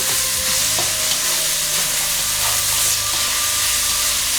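Sofrito sautéing in a pan produces a loud, dense, unbroken sizzle close to the listener, with a couple of faint stirring knocks and no voices.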